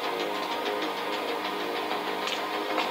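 A machine engine runs in the Ice Scream horror video game, a steady, close mechanical drone with a rapid knocking pulse, loud and alone without any talking.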